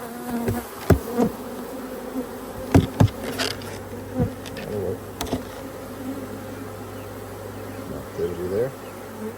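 Honey bees buzz steadily around an opened hive box during a colony split, a dense insect hum with scattered knocks of equipment and brief talk over it.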